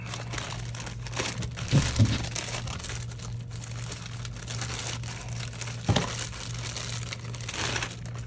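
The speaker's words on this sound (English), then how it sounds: "Let's get the old X-Acto knife out and let's cut open some stuff, shall we?" Model kit packaging for a Polar Lights 1/25 1969 Dodge Charger Hot Wheels funny car being cut open with an X-Acto knife, heard as close crinkling and rustling of plastic and cardboard with a few sharper clicks over a steady low hum.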